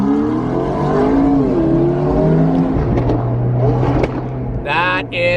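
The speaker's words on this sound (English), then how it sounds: "this man's car is just shooting fire" A modified car revs hard, its engine note climbing and falling in loud, close sweeps, then cracks out a few sharp exhaust pops and bangs near the end as flames shoot from the exhaust.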